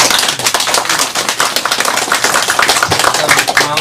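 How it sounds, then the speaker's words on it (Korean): Loud, dense clapping from a crowd at a Korean political party rally, a continuous rapid patter of many hands that lasts throughout without pause. "한번 박수 한번 주시도록"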